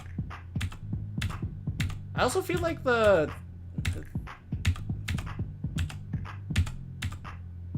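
Arrow keys on a computer keyboard pressed while playing a rhythm game: a rapid, irregular string of sharp clicks close to the mic, running under a person talking, with music and other sounds in the background.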